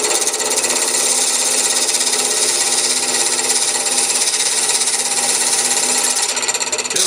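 A roughing gouge cuts Corian spinning on a lathe, making a loud, continuous harsh whirring scrape that holds steady throughout before easing slightly at the very end.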